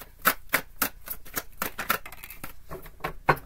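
A tarot card deck is shuffled by hand in quick, crisp, rhythmic bursts of papery slaps and riffles, close and clear, with no voice over it.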